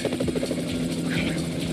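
A helicopter in a video game casino heist getaway beats steadily with rapid rotor chop under a dense mix of game sound, loud and close, with brief voices over it.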